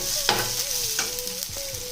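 Fried tomato with chili and turmeric powder being stirred in a pan for a Chettinad-style pepper chicken fry, a steady sizzle with a few sharp scrapes of the spoon and a low hum underneath, no talking.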